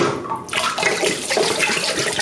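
Water swirls and sloshes loudly inside home-brewing equipment during a vigorous cyclone-style rinse, a continuous close gurgling rush with no talking.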